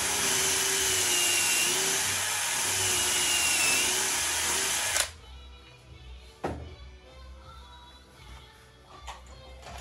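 A power tool drives screws into a fitted cupboard with a loud, high whine for several seconds, then stops, followed by scattered knocks and thumps of work nearby.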